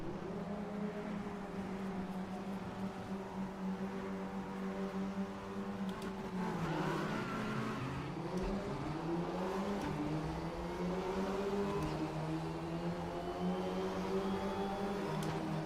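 Race car engines in the RaceRoom racing sim, Porsche Pack 2023, drone steadily as a car accelerates and shifts through gears, pitch climbing and dropping at a moderate, continuous level with no talking.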